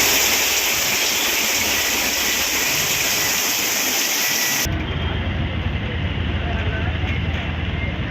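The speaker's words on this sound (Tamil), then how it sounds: "திருநெல்வேலி மாவட்டம் திசையன் உலையில் கொட்டி தீர்த்த கனமழை" Heavy rain pours down over Thisayanvilai in Tirunelveli district, a dense, steady hiss of downpour that holds loud and unbroken, with a sudden shift in tone partway through as the rain's roar thickens.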